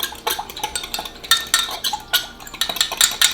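Soy sauce mixture stirred in a bowl, with quick, close, irregular clinks and scrapes of a utensil against the dish in rapid bursts.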